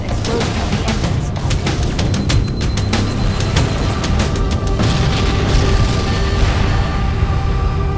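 Ship engine reactors blowing up in Halo: Combat Evolved Anniversary give a dense, sustained roar of deep booming rumble with crackling bursts, loud and continuous without letup.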